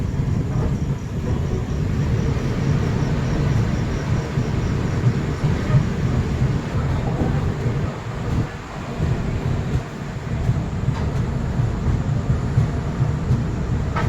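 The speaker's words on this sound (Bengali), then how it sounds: "রাত প্রায় 11টার সময় আমাদের ট্রেন তার first halt Bandel junction enter করছে" Garib Rath Express rolling into Bandel Junction at night: a steady, close, low rumble of wheels and carriages that runs unbroken throughout.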